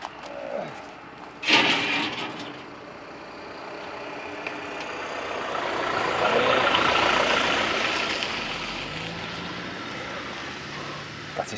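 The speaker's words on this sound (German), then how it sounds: "Immer wieder viel los hier auf der Straße, die vielen Autos." Cars pass along a busy street beside a vineyard: a sharp knock, then a long swelling rush as a vehicle approaches and fades, loud and close, with a steady outdoor hum and no talking.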